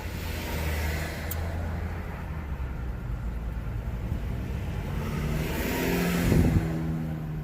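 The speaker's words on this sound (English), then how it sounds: "we got traffic kind of screwed up here in downtown" Steady downtown street traffic with cars rumbling and passing nearby, one vehicle accelerating close by near the end, a continuous loud drone with no talking.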